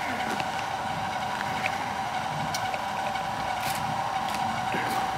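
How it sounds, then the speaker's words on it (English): A car engine whines with a steady high-pitched tone over a continuous engine drone, heard from nearby and unchanging throughout, with a few faint clicks and knocks. "I know y'all hear my car. She over there whining."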